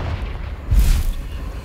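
A Confringo blasting spell explodes in a Harry Potter video game: one short, deep boom lands about halfway in, with a brief rushing burst over a steady low rumble and no voices.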